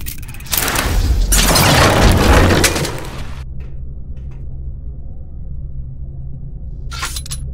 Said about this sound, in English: The explosions didn't affect the room.